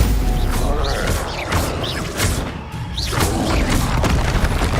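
Spell impacts in the video game Hogwarts Legacy, cast as Stupefy and similar combat spells: repeated heavy booms and crashing hits with whooshing sweeps between them, loud and dense throughout.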